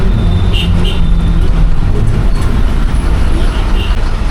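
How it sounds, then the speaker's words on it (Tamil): Road traffic with a bus approaching, a Kerala-bound service heading for Kollam via Punalur, rumbling steadily close by on a green rural route amid continuous engine and road noise. "கேரளா வண்டி வருங்க"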